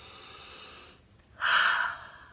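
A person breathing during an EFT tapping exercise: a soft quiet exhale, a short pause, then one loud, close, airy inhalation through the nose lasting about half a second.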